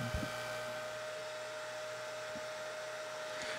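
A hair dryer runs steadily throughout with a constant whooshing hum and a pair of stable tones, fairly quiet, with a few faint knocks near the start and end.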